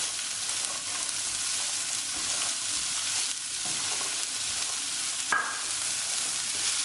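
Beans frying in a pan for a mixed vegetable sabzi, a continuous bright sizzle with scraping stirs and occasional spoon knocks against the pan, close up and without voices.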